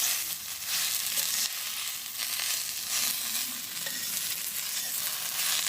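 Ash gourd leaves fry and sizzle in a pan with a steady, soft crackle and occasional stirring scrapes, moderately faint and continuous with no voices.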